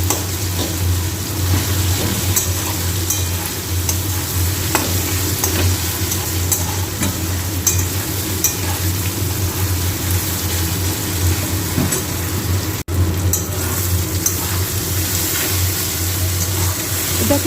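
Fried hilsa fish head and taro stems sizzle in a pan while being stirred, a continuous close crackle with regular scraping strokes and no talking.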